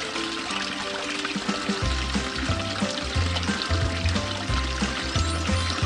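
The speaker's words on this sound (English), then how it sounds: "Please use the shower." Shower water running in a kids' house-cleaning game, a steady pouring spray with trickling splashes throughout, alongside low repeating game tones.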